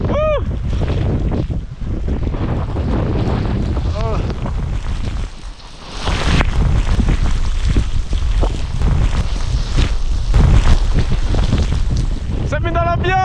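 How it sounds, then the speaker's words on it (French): Strong gusts of wind buffet the microphone on a winter ascent of the Barre des Écrins at 4102 m, a loud roaring rush that swells midway, with brief vocal sounds scattered through it. "Et parfois, occasionnellement, des rafales de vent pouvant aller jusqu'à 50 km/h."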